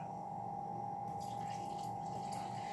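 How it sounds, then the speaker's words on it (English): A steady stream of warm water runs into a mixing bowl of bread dough ingredients, a continuous close splashing pour with a hum beneath, no voices. "And then we will add 1 cup of warm water."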